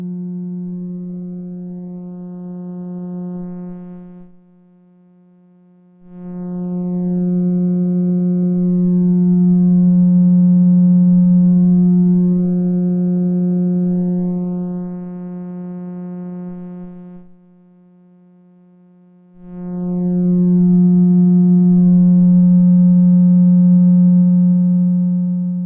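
A SoloRack synthesizer oscillator produces a sustained low sine-like tone with harmonics that sweep and shift. It plays loud and alone in three long stretches, each separated by a brief drop or gap.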